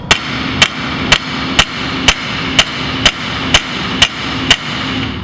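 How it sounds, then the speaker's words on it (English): Flat face of a hammer striking a metal garden trowel, about eleven sharp, evenly spaced blows roughly two per second, loud and close, each with a bright metallic ring. "it's okay to switch to the flat side of your hammer."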